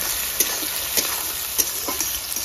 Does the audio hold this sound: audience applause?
no